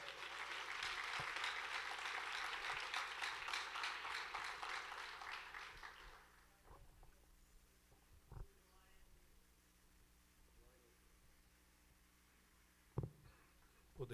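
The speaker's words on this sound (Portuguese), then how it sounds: "As palmas louvam o Senhor" A church congregation claps in praise during a Bible study service, giving about six seconds of steady, full applause that stops abruptly. A faint, quiet room follows, broken by a few soft knocks and thumps.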